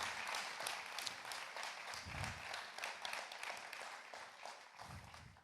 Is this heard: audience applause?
yes